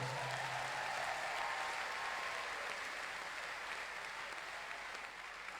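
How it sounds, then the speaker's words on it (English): Faint, distant applause rolls on evenly for several seconds from a gathered audience at a love-talk event led by a prophet, with a brief low tone near the start. "you can clap those hands"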